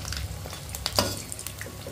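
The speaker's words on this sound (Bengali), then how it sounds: "একটু ভালো করে নেড়ে চেড়ে ভেজে নিতে হবে।" Egg pakoras being turned and stirred in a pan of hot oil: a soft continuous sizzle with a few light scrapes and clinks of a utensil, close by and with no voices.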